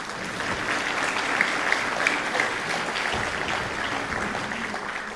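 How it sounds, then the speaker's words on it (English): An audience at an elementary school spring concert claps steadily in a hall, with dense, sustained applause at even loudness for several seconds and no voices over it. "Please give them a round of applause."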